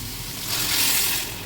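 Frying masala for a raw banana sabji hisses in a wok as water goes in, a loud, close, brief burst of sizzling that swells and then settles.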